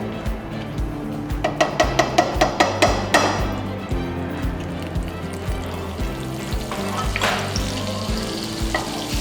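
Oil and a little butter sizzle steadily in a pan, with a series of sharp metallic taps early on and the frying hiss continuing alone.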